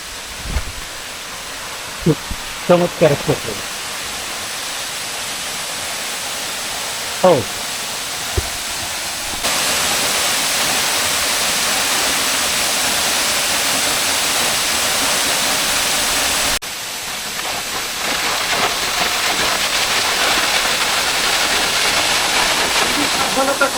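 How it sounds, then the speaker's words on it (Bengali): Water pouring down a main waterfall on the Boalia trail in Mirsarai, a steady broadband rush that grows louder partway through, with a few brief voices and knocks early on. "মেইন যে ঝর্ণাটা সেই ঝর্ণাটা উপর থেকে নামা হচ্ছে এই জল"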